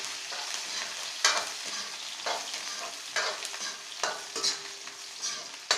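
Chopped onions sizzle steadily in hot oil with blackened cumin seeds, while a spoon scrapes and stirs the pan every second or so. The cooking is loud and close, with no voices.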